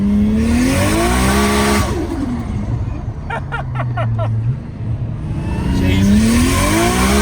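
Tires of a 30-year-old Nissan car spin without grip, a loud engine revving and rising in pitch over a steady roar, with a sharp rhythmic burst of squeal mid-way.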